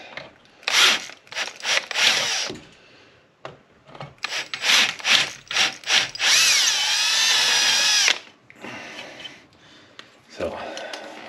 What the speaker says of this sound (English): What you have to do is drill it out.